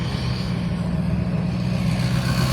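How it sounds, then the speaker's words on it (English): Pickup truck rumbling past at night by a river during a fireworks festival in Lockport, PA, a loud steady low engine drone holding for the whole stretch. "And we have a loud pickup truck going by."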